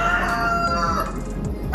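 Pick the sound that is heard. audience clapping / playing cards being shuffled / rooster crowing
rooster crowing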